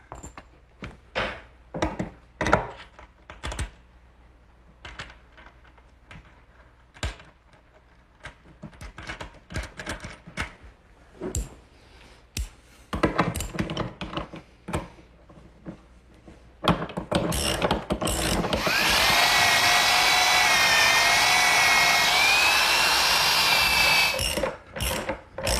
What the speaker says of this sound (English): put a carriage bolt through, give it a tap so it won't spin